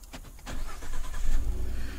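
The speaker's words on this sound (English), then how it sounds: "So we're going to go ahead and we're going to activate the remote start again." A 2015-2018 Ford F150 engine cranks and fires up on remote start, a brief starter whir followed by a rising, steady idle rumble, close and fairly loud with no talk.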